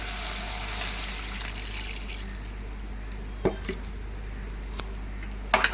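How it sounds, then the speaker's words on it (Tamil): Water is poured into a kadai gravy of sautéed onion and tomato as it cooks, giving a soft continuous trickle with a few sharper splashy drips near the end. "இப்போ இது வேகிறதுக்கு தேவையான தண்ணி ஊற்றிடலாம்."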